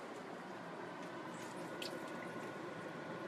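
Fresh lime juice drips from a cut lime into a cooking pot of beef chili, a faint, soft trickle of drops in a quiet kitchen with a steady background hiss.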